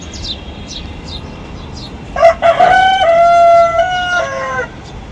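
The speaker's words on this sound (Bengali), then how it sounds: "বাহিরে মোরগ ডাকতেছে" A rooster crows outside as a storm gathers at dusk, one loud, close, drawn-out cock-a-doodle-doo following a few faint chirps, with no talk.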